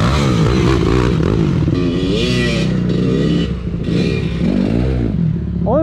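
An enduro motorcycle revs hard on a ramp, its engine rising and falling in loud, close bursts of throttle with rattling and scraping, continuous across the whole stretch with no clear speech.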